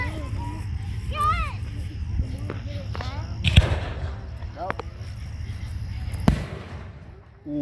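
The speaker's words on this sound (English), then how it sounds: "I like fireworks." Fireworks at a large display go off with two sharp, fairly distant booms and softer crackles, while people talk nearby over a low background rumble.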